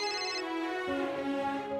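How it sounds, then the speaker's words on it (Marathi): A phone ringtone plays a repeating electronic melody, clear and steady for about two seconds with no voices. "आई बाबा वर्षाताईंचा फोन आहे."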